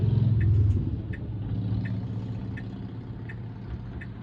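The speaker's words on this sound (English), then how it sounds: "There's a lot of cars coming down the street." Several cars pass along a street, heard from inside a Tesla running FSD Beta, a steady low engine and road rumble that is louder at first and then eases, with a faint regular ticking.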